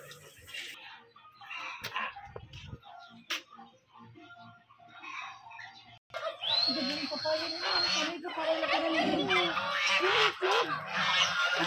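A flock of turkeys on an organic farm in San Francisco, Quezon, gobbling and squawking in a loud, dense chorus that swells in the second half, with people talking underneath.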